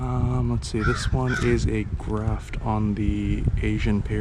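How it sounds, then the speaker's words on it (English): A crow caws in the background of a garden beside an Asian pear graft, its calls partly buried under close, steady conversational speech. "I think that's a crow in the background."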